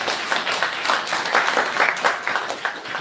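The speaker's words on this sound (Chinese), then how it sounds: "再一次热烈掌声来谢谢蔡多嘉义。" A church congregation at a Taiwanese-language worship service gives a burst of warm, sustained applause: many hands clapping densely and evenly throughout, with no speech on top.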